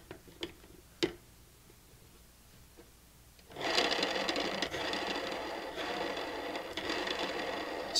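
An Annihilator XL broadhead caked with concrete spins on its tip: a few faint ticks, then a steady, close whirring rasp that starts midway and runs evenly to the end.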